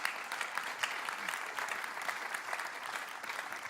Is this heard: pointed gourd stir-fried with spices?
no